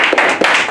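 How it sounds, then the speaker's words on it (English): A round of applause comes as a brief burst of hand clapping, a few loud, close claps that last under a second. "Let's get that round of applause there."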